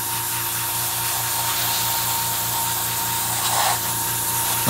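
Airbrush or spray can hissing steadily while paint goes onto a model Sturmgeschütz III Ausf B tank, a continuous close airy spray with a low hum beneath and a short burst near the end.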